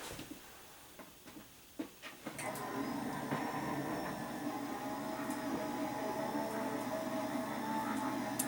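A large electric die cutting machine draws a card through its rollers, starting with a few clicks and handling knocks before settling into a loud, steady mechanical rumble and whir that runs to the end, with no talking.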